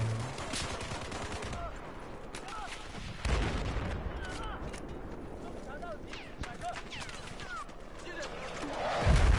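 Explosions and gunfire in the video game Battlefield 4, with bursts of shots and blasts recurring through the clip, a heavy thud near the middle and another swell at the end, under a voice talking.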